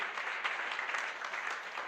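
A church congregation claps in a brief, faint burst of scattered applause.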